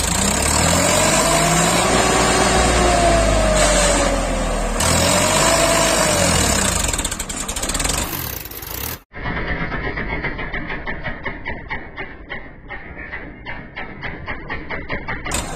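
A Swaraj 963 FE 4WD tractor engine runs steadily and loudly nearby during a brick-load power test, with a sustained mechanical drone that shifts pitch midway, then a brief cut, then continues with a rhythmic chugging beat.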